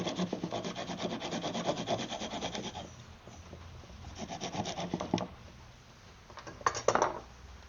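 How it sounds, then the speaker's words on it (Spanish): A power sander smooths a handmade wooden tortilla press, giving a close, gritty rubbing whir in two long passes separated by a brief lull, then short scraping bursts at the end, with no talking. "después pasamos la lijadora y emparejamos y listo."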